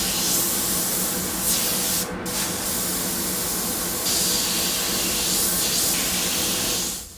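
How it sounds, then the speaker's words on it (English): An airbrush sprays heavily reduced lemon yellow paint for freehand flames on a skull design, a loud, steady close hiss with brief dips where the trigger eases off, and no talking. "add some of that lemon yellow color into your airbrush and heavily reduce it"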